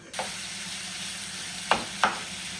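Garlic and marjoram frying in a pan give a steady, soft sizzle throughout, with two brief sharper scrapes or stirs near the end and no talking.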